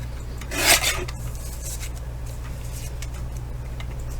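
Paper being cut into 1.5-inch strips, one brief rasping snip near the start and then faint scraping against a steady low background hum, with no talk.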